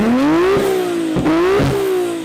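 A Nissan GT-R engine revs in a steady climbing and falling pitch, loud and close, carrying a slight drone underneath, alone with no talk.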